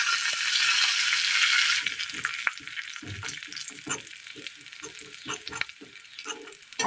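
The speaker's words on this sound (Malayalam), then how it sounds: "ഇതൊന്ന് ഒതുക്കി വെച്ചതിന് ശേഷം മുളക് പൊടി ഇട്ട് കൊടുക്കാം." Chili powder frying with onions and curry leaves in a hot pan for a Kerala recipe, loud steady sizzling at first, then settling into quieter crackle under a run of scraping, clacking stirs.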